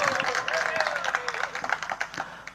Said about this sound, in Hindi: अभी तालियां बजा रहे हो